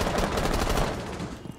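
Sustained rapid gunfire from a firefight in the tactical shooter Rainbow Six Siege, loud and dense, with overlapping bursts filling the whole moment and no talk over it.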